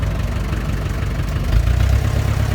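Diesel engine of a 1986 Mahindra Jeep idling after a cold start following years of standing unused, a steady low rumbling chug heard close and loud.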